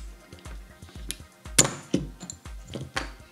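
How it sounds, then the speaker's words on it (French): The complete trigger group slides out of a Ruger GP100 .357 Magnum revolver during disassembly. A crisp metallic click and clink ring out near the middle, over a soft, repeating thumping beat in the background. "Ce qui va nous sortir le bloc détente complet d'un coup comme ceci"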